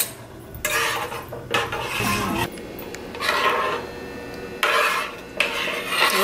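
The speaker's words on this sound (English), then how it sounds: "And I'm gonna stir." A spoon stirs chicken tortilla soup in a pot, making repeated bursts of metallic scraping and clattering against the pan with short quiet gaps between strokes, close and fairly loud.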